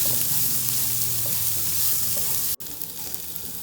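Pork ribs stir-fried with chili and salt sizzle loudly in a hot pan, a dense continuous hiss with soft stirring, cutting off briefly before resuming.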